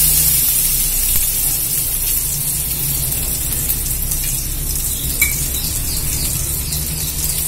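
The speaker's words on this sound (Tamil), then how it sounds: "வெங்காயத்தை போட்டாச்சு, வதங்கட்டும்." Onions sizzle in butter with a steady, close hiss and faint crackle that runs unbroken throughout, with no talking.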